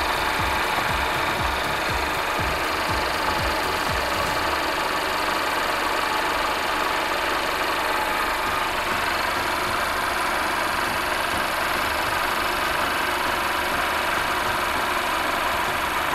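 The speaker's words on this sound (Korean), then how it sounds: "엔진 소리 일정합니다" A Mercedes-Benz E-Class W213 E300 engine idles steadily up close in the engine bay, a continuous even rumble with a faint rhythmic ticking and broad hiss throughout.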